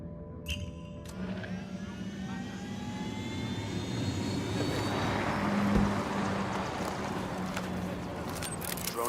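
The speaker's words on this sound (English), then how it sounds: "Drone is airborne." A drone lifts off in a video game with a steady whirring engine roar that swells gradually and holds, loud and close, with a few faint game effects scattered over it.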